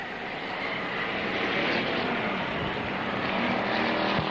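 Race cars roar out of turn four to finish a 1990 short-track race, a loud, sustained engine drone with a swelling pass near the end and no talk over it.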